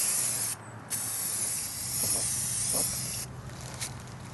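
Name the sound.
spraying clear coat on Wheel Horse tractor parts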